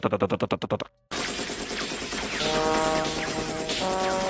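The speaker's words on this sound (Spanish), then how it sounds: "Y este se lanza como si fuera Rambo, disparando." Rapid anime gunfire as a character charges forward shooting like Rambo: a quick burst of evenly spaced shots, a brief gap, then a dense, loud sustained barrage of firing and effects.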